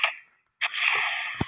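An M4 rifle fires in the video game Special Force 2, a few sharp, crisp shots with a short tail, separated by a brief silence and ending in a deeper thump.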